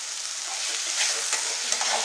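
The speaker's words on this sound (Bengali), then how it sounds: "হালকা একটু ভাজা ভাজা হলে। এই তো এবার ভাজা কমপ্লিট। শুশুনি শাকের ভাজা" Susni greens (water clover) stir-fried in a pan with a little sugar, a close, continuous bright sizzle with occasional scraping clicks, heard alone without voices.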